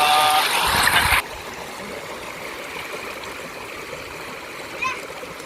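A person wades into a cold river. A loud rushing splash lasts about a second, then gives way to a steady flowing-water wash and a small splash near the end.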